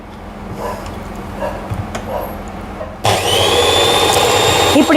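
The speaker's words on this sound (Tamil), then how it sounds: "இப்போ நம்ம பிளெண்ட் பண்ண போகிறோம், மெஷின் போட்டு பிளெண்ட் பண்ண போகிறேன்" A hand blender starts abruptly and whirs loudly and steadily through an ice cream mix with condensed milk, after a few seconds of quieter room noise and faint handling sounds.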